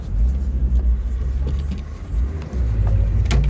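A car driving along a ring road on the outskirts of Lviv picks up speed with a steady, loud low engine rumble and road roar, a short dip midway, and no talking.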